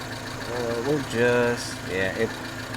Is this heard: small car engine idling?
yes